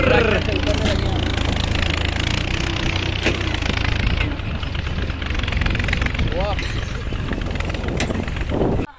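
A tractor engine runs steadily and loud throughout, its low rumble continuous as people talk and move about nearby.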